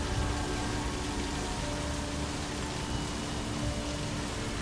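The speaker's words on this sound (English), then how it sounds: "I hear rain, but we are not where rain should be." Rain ambience in the horror game A Machine For Pigs: a steady, dense wash of falling rain with faint low rumble, continuous and even throughout with no talk.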